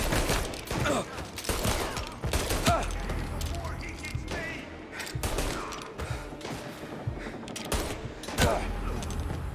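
Gunfire in Mafia Definitive Edition, a dense run of shots and bursts in a shootout, with mechanical clatter and thuds, heard together with a shouting voice.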